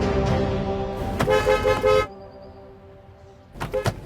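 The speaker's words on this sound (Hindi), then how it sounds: "दोनों घर से एयरपोर्ट के लिए टाइम से निकल गए थे, लेकिन रास्ते में हैवी ट्रैफिक जाम लगा हुआ था।" Car horns honk in a heavy traffic jam, a steady tonal horn blaring near at first and cutting off, then quieter traffic before more horn toots break in again.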